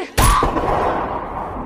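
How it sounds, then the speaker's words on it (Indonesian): A single loud gunshot cracks sharply and then rings out in a long, fading echo. "Suara tembakan itu terdengar sampai ke desa kera"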